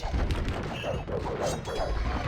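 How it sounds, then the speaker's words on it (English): Bombard cannons and trebuchets firing during a castle siege in Age of Empires II, heavy booms and thuds overlapping with clattering battle noise in a dense, loud barrage. "the bombarded cannons and the trebuchets are slowly taking some of them out"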